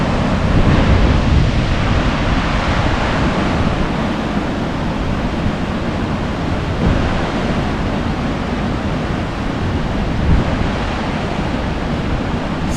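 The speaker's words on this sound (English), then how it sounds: "That's some rushing water coming through there" Water rushes through a creek below a steep cliff, a loud, steady broadband roar mixed with wind buffeting the microphone, continuous throughout with no speech.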